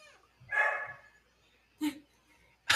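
A dog in the room gives two short barks a little over a second apart, quiet and somewhat distant, with stillness between them.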